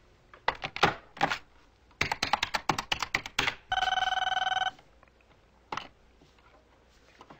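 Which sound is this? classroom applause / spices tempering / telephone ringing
telephone ringing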